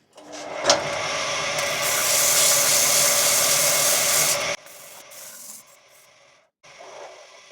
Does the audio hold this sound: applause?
no